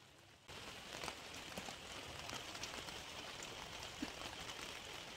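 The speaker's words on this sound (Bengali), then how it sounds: "বাইরে এখন প্রচণ্ড বৃষ্টি পড়ছে আর আমি এখন বাগানেই আছি।" Heavy rain pours at night over a garden, heard as a faint, steady hiss of drops that starts suddenly and continues evenly for several seconds without any talk.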